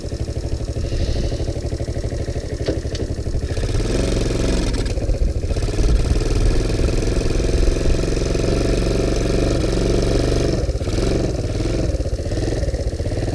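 A small ATV engine with an oversized carburetor runs steadily and close, its rough mid-pitched drone rising into a couple of revs partway through, with no talk over it.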